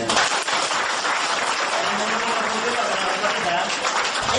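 An audience at a marketing presentation breaks into steady, dense applause, many hands clapping loudly and continuously throughout with no pause.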